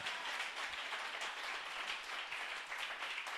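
A church congregation applauding the Lord, with steady dense clapping from many hands that sounds somewhat distant and continues throughout.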